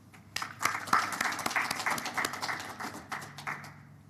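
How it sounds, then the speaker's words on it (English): An audience claps at the official launch of a national research and development survey report, with a full, sustained round of applause rising quickly and fading toward the end. "let us show our joy of being here by clapping our hands"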